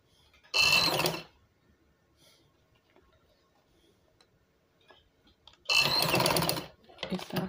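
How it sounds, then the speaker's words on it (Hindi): Sewing machine stitching fabric strips down the center of a dress hem, two loud close bursts of rapid stitching separated by a quiet stretch with faint handling noise. "अब इसके सेंटर में ये तमाम पट्टियाँ रखते जाएं और सिलाई लगाते जाएं"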